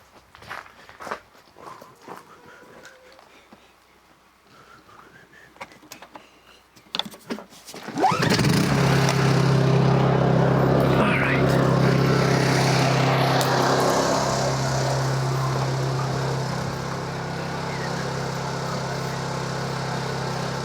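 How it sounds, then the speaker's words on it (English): A portable generator fires up abruptly beside a woodshed after a few scattered footsteps and handling knocks, then settles into a loud, steady droning hum that runs without pause to the end. "I'll fire up the generator and show you how this works."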